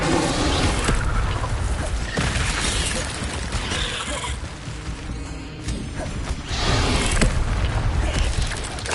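Incendio fire spell cast in Hogwarts Legacy, a dense, loud burst of fiery whooshing and booming mechanical rumble filling the whole stretch, swelling and dipping without pause.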